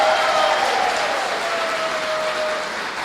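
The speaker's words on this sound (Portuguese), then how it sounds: "E uma salva de palmas ao Padre Arno" Conference audience applauding, a steady wash of clapping that fades slightly toward the end, with a faint tone sounding through it.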